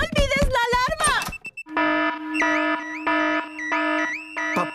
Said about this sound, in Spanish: Papá Cerdito encendió la alarma. El ruido despertó a todo el vecindario.